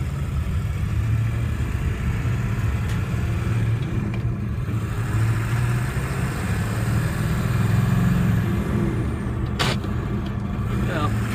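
A 2001 Ford F250 diesel truck with a manual transmission, running on worn off-road tires, drives along with a steady low engine rumble and road noise. A voice is faintly present under it.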